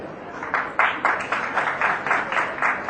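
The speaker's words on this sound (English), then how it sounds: "So some applause for our midwifery unit, please." Applause for a midwifery unit at a medical conference talk, a small, sparse group clapping in a fairly regular rhythm of distinct claps, close and moderately loud.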